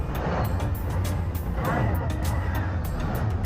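Road traffic on the route up to Suryamal hill station in Palghar, Maharashtra: a continuous rumble of car and truck engines, fairly loud and constant, with indistinct voices mixed in.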